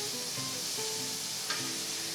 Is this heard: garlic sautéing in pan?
yes